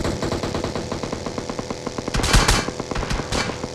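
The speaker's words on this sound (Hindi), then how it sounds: "यहाँ देखो डीपी से फायरिंग होती है मेरे को" A DP-28 machine gun fires in Battlegrounds Mobile India, a fast steady stream of sharp shots with a louder cluster near the end, continuous and close throughout.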